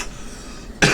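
A single sharp human cough bursts out near the end, loud and close, after a stretch of quiet room noise.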